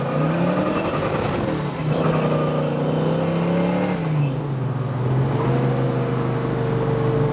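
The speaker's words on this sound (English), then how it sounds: "we're gonna do a little 2nd gear roll here and just see how she pulls" A 1968 Chevrolet Chevelle accelerates hard in second gear, its engine note climbing steadily and loud, dropping briefly as it shifts, then pulling upward again in a sustained roar.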